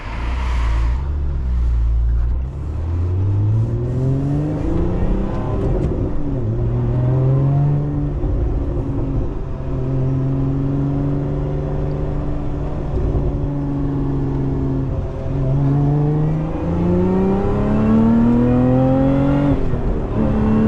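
A 2024 Lotus Emira First Edition V6 with manual gearbox revs hard on a test drive, its engine note climbing steadily through the gears in repeated rising sweeps, loud and close from inside the cabin.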